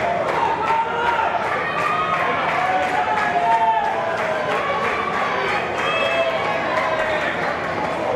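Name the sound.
capacity wrestling crowd cheering for the champ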